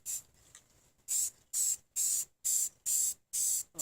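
Aerosol spray paint can fitted with a brand new nozzle coating a car radiator, a weak sputter at first, then six short, even hissing bursts in a steady rhythm, close and crisp.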